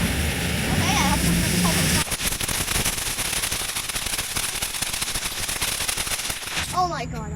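Fireworks from a Walmart Blast Zone fireworks kit go off in a rapid crackling barrage of bursts that runs for several seconds, preceded and followed by a voice.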